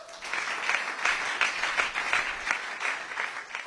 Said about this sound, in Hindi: तो उसके लिए तालियां हो जाए।